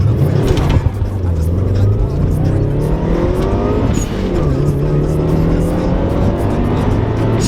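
A Subaru Legacy with a turbocharged engine, not fully stock, revs hard and accelerates up close, its loud engine note rising and falling through gear changes for several seconds.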